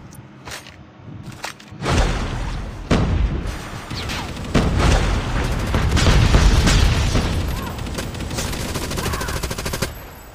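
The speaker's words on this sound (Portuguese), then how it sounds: "Taca essa granada de dispersão, hein!" Scatter grenades go off in an online shooter match, a dense run of loud booms and crackling blasts that build into a sustained roar of gunfire and explosions, with no voices over it.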